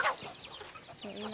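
Chickens on a small farm among a flock of 22 birds, giving short clucks and squawks nearby, one sharp call at the start followed by softer murmuring clucks.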